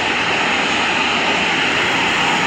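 An airplane roars close by, its loud, steady engine noise filling the whole stretch without a break or any talk.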